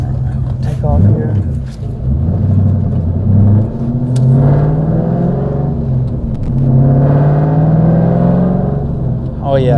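A 4th generation Camaro SS pulls away from a launch, its rumbling V8 exhaust rising in pitch as it accelerates, loud and close, with someone talking over the engine throughout.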